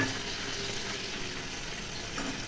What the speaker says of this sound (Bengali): এদিকে মেয়ের জন্য মাছ ভাজা বসালাম